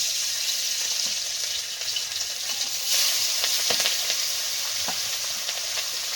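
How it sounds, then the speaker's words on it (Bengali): Loud, continuous sizzling and crackling of hilsa fish frying in hot oil in a wok, with occasional pops and a brief surge partway through; no voices. "তেল কড়াটা গরম হয়ে গেছে মাছগুলো দিয়ে দেবো"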